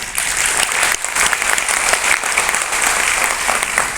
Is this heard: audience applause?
yes